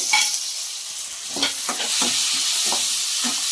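Browned onions and tomato sizzle in a hot pan for a dried fish and drumstick curry, with several close, irregular scrapes of a spoon stirring over a steady frying hiss.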